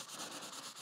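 A guitar fretboard and its frets are rubbed down by hand, giving a brief, soft, steady scrubbing hiss at close range with no voices.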